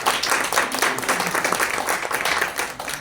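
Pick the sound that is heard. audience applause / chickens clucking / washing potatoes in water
audience applause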